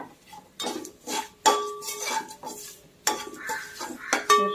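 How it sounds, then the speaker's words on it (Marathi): Crushed garlic fries in oil for poha chivda, heard as intermittent bursts of sizzling and metal spoon clinks against the pan as it is stirred. "लसूण देखील चांगला क्रिस्पी फ्राय करायचा यामध्ये"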